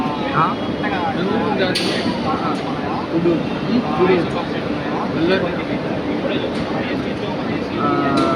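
A passenger train rumbles along steadily, heard from beside an open door with rushing wind and rattling carriage noise, while voices talk over it.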